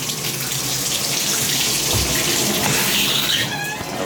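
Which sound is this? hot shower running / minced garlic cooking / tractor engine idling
hot shower running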